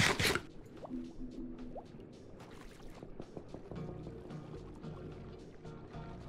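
Underwater swimming in the Minecraft video game: a sharp splash at the start, then muffled bubbling, drips and soft watery squishes throughout, with no talking.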